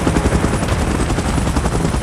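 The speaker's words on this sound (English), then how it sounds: "Chopper in position." A helicopter in the video game PUBG's Last Stand mode roars close and loud, its rotor chopping in a fast, steady pulse over a dense engine drone.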